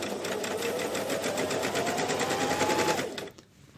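A Singer S1000EX sewing machine runs a simple straight stitch in a fast, even mechanical whir of rapid needle clatter for about three seconds before stopping abruptly.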